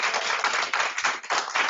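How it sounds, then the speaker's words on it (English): An audience gives a round of applause to panelists at the close of a discussion event, a brief burst of many hands clapping close and full, without pause. "Please join me to give a round of applause to our panelists."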